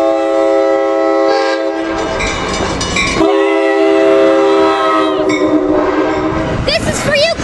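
An Amtrak train passes close in San Juan Capistrano, sounding a loud multi-tone horn in several long blasts over rumbling wheels and clatter.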